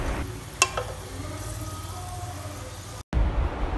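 Long-sliced ginger fries in hot oil beside browned ingredients, making a steady close sizzle with a brief clatter near the start and a low rumble underneath, and no voices.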